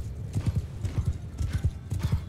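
Horses galloping in the game Mount & Blade 2: Bannerlord, a rapid rhythmic drumming of hooves in repeating triplet beats, steady and moderately close under a faint battle background.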